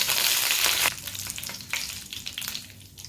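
Dried red chillies and curry leaves crackle and spit in hot oil with mustard seeds, a loud close sizzle that bursts hard at first, then settles into a softer popping fry.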